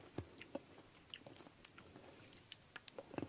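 Close-up, quiet chewing and biting of fresh redcurrants, with soft wet squishes and small irregular crunchy pops over a few seconds and no talking.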